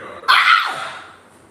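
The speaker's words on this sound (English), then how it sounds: "let me get the dog back in here" A single dog barks sharply in a backyard, one loud burst near the microphone that trails off quickly into quiet.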